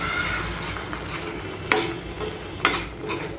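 A spatula works through egg curry masala in a pan, giving a continuous close sizzle with soft stirring and two sharp scraping knocks against the pan. No one speaks.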